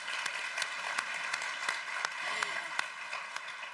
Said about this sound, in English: I think round of applause for Claire.